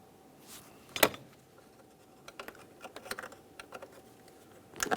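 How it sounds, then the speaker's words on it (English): An electrical connector snaps onto the throttle position sensor of a 2002-2005 Ford Explorer with a faint, sharp click. Soft handling taps and rattles follow in a quiet space, then a second crisp click near the end. "Listen for a click, give it a tug to make sure it's completely secured."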